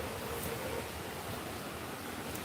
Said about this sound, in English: And here comes the river.